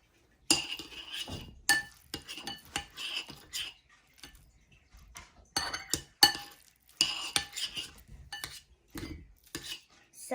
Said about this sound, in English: And I'm going to mix that in.